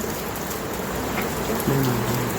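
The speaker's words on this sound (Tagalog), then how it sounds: "It's raining out." Steady rain falls outdoors in a constant close hiss of drops, with a faint low tone in the background near the end.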